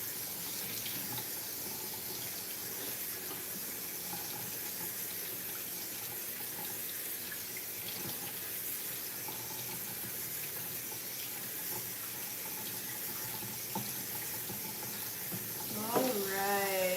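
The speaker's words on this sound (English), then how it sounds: "rinsing off the chickpeas" Chickpeas being rinsed under a running kitchen tap, a steady close stream of water splashing into a sink that keeps going throughout, with faint talk in the background.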